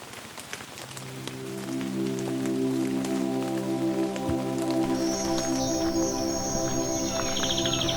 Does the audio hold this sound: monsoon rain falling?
yes